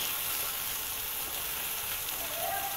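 Chopped onions and tomatoes sizzle softly in a pan while being stirred, a steady gentle frying crackle at moderate distance, fairly quiet and continuous.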